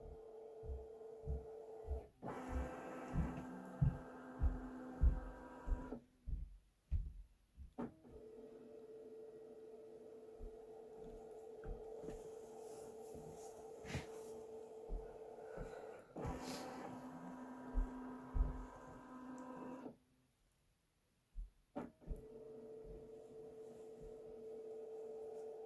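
A Kimberbell quilting and embroidery machine runs an image scan, moving its hoop all the way to the back: a quiet motorized whir with rhythmic ticking pulses, broken by short pauses where the mechanism stops and restarts.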